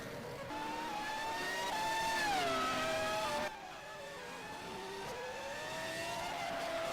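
F1 race cars from the game F1 2000 lapping the Hungary circuit amid traffic, with continuous engine whine rising and falling through gear changes as several cars pass close by, fairly loud and steady.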